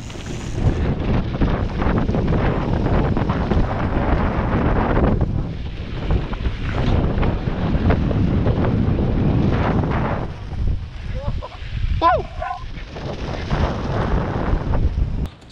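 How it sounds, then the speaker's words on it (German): Strong storm wind gusting during a mountain bike ride, roaring and buffeting the microphone loudly for most of the stretch, easing briefly before surging again. "Das krass ist, ich wird da vom Wind weggeblasen."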